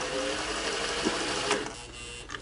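A Singer 401A or 500A sewing machine runs with a steady mechanical whir and rhythmic clatter, with a few clicks and a shift in tone near the end.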